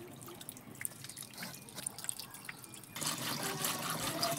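Water splashing and dripping while fresh pond fish cut into small pieces are washed by hand, scattered drips and trickles turning into a steadier, louder running flow partway through.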